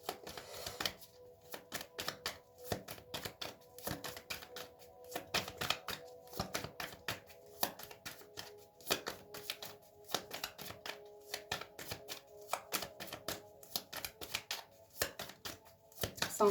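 A deck of tarot cards is shuffled close up for a long stretch, with rapid, irregular flicking and riffling clicks and a faint steady hum underneath; no talking.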